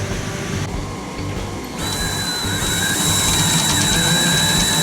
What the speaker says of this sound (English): Now we're drilling out very carefully the back of the hinge here